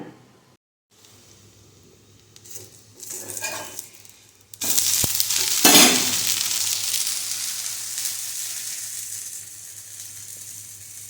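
Ghavane, rice flour crepes, cooking on a hot pan in a home kitchen: a soft start, then batter hits the pan with a sudden loud sizzle that hisses steadily and fades slowly, with no voices.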